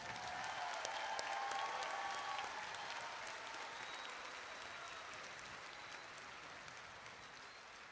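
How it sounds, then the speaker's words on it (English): Sustained applause from a large audience at a university commencement ceremony, steady and dense from start to finish, with no speech over it. "please give them a huge round of applause"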